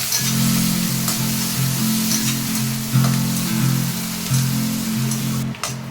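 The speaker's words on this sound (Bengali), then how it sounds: "যে পেঁয়াজটা কুচিয়ে রেখেছি তার অর্ধেকটা আমি দিয়ে পেঁয়াজটাকে খুব ভালোভাবে ভেজে নিচ্ছি" Chopped onions fry in hot oil in a wok, cooking for a fish curry after black cumin seeds went in: a steady, close sizzle running unbroken for the whole stretch, with a faint low hum beneath it.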